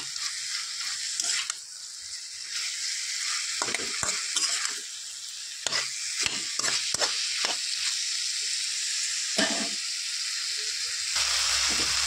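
Garlic stirred and fried in a pan gives a steady, bright sizzle, broken by repeated scraping strokes of a spoon against the metal.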